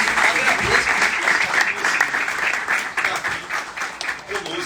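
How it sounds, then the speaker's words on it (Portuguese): A crowd applauds at a political leadership gathering in Bahia, Brazil, dense continuous clapping that stays loud and full for nearly five seconds, with faint voices mixed underneath. "uma salva de palmas a todos vocês"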